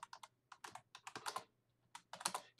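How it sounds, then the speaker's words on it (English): Quick bursts of close, crisp key clicks on a computer keyboard as keywords are typed, irregular clusters of taps with short pauses between them and no talking. "I'm just going to type in some keywords"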